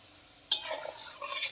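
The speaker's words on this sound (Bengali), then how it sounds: "একদম কমিয়ে দিয়েছি গ্যাস, আস্তে আস্তে এটা ভাজতে হবে" Nimki strips frying slowly in oil over a low gas flame, with a sharp scrape of stirring followed by soft, light sizzling bubbles, close and fairly quiet, no talking.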